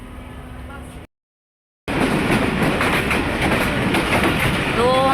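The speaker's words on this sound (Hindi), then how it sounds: "सेकेंड डिपार्चर विसल हो चुका है और इसी के साथ अब हमारी ट्रेन मूव करने लगेगी" The Rehman Baba Express passenger train pulls away from Dig Road Junction station with a brief whistle, then a short gap before loud, steady rumbling and clattering wheels, with faint squeals near the end.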